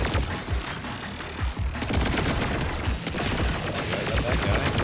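Dense, continuous gunfire from Borderlands 4, a shooter game, with rapid overlapping shots and thumping impacts throughout, loud and close, with faint voices underneath.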